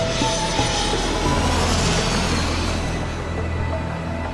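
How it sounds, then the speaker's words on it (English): Steady, loud roar of an American Airlines Boeing 787-9 Dreamliner jet at Los Angeles airport, broad and continuous with a slight easing toward the end, no voices. "American Airlines Flight 2853 heading to Dallas, Texas in a 787-9 Dreamliner"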